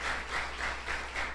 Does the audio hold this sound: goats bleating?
no